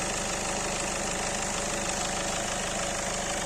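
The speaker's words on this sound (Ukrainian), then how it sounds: "Двигун працює стабільно." A Skoda Octavia A7 engine idles after a diesel particulate filter cleaning, giving a steady, even mechanical hum with a faint rhythmic knock, close and constant throughout.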